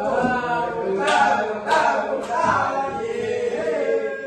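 Three distinct hand claps land at an even, spaced rhythm in a class activity led by a religious teacher, while a voice keeps talking over and between them.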